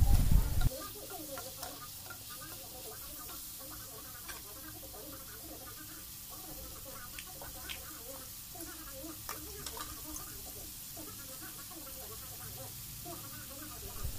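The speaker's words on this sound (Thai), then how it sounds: "ก็โคเนื้อหมูให้มันสุกอีกนึง" Pork stirred and fried in a pan, a steady soft sizzle with scattered ticking scrapes of the utensil, continuous and fairly quiet, with a brief louder knock at the start and faint talk in the background.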